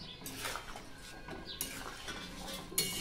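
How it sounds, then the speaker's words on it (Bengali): Spoon stirring chicken and cucumber curry with chana dal in a pot on a home stove, with soft scraping and light clinks against the metal, quiet and close, broken by a few sharper knocks. "একটু নেড়ে দেবো।"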